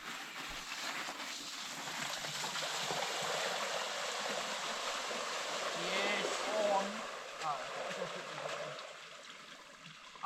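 Constant rushing and splashing of river water as bikes cross it during winter bikepacking in New Zealand, a broad steady wash with some faint voices underneath.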